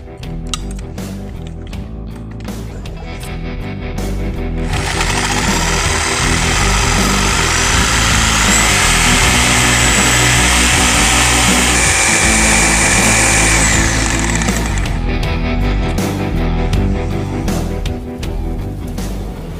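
Reciprocating power saw fitted with Diablo blades cutting through the steel front clip of a 2004 Chevy HD truck, a loud grinding buzz that rises over a mechanical hum, holds for about ten seconds, then fades back down.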